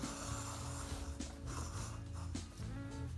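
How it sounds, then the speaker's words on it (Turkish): A hand-cranked generator motor wired to a 20-watt 220-volt LED bulb turns steadily up close, giving a continuous mechanical whir with ratcheting, gear-like clicks and a few sharper knocks. "motorumuzu sürmeye başlıyorum."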